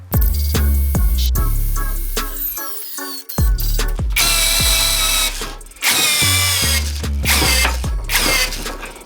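A Revolt cordless drill drives a long 12x300 screw, its motor whining in loud repeated bursts with ratcheting clicks and gear noise, stopping and restarting several times, close up with no talk.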